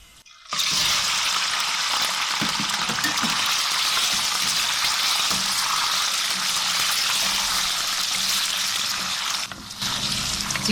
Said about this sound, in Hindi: चिकन को हम इतना फ्राई करेंगे कि इसकी वाइटनेस ख़त्म हो जाए और लाइट गोल्डन हो जाएगी।